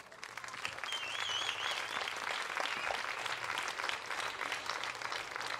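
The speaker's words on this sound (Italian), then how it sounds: "la piazza di Francavilla, che saluto, sicuramente li accoglierà con un grande applauso" An outdoor crowd in a town square in Francavilla al Mare applauds continuously ahead of a musical performance, a steady patter of many hands with faint voices and a whistle mixed in.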